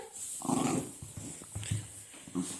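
A young dog in heat growls and whimpers up close, low rumbling growls broken by higher whining yelps, several bursts over a faint background.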